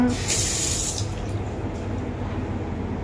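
Water runs from a tap in a three-star hotel room in Kerala, a steady rushing stream that is strongest in the first second and then settles into a softer, continuous flow.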